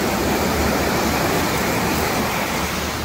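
Continuous roar of ocean waves at an Ocean City beach, a broad steady wash of surf close by and loud, with no voices over it.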